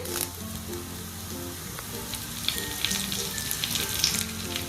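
Curry leaves sizzle in hot oil while making vada pav potato filling, a steady close crackling fry with sharp pops and spits over low stirring and scraping sounds, no talk.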